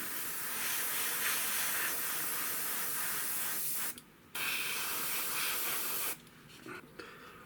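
An airbrush sprays Tamiya grey paint onto an Airfix Hawker Tempest scale model, hissing in steady bursts close by, with two short pauses where the airflow cuts off before resuming.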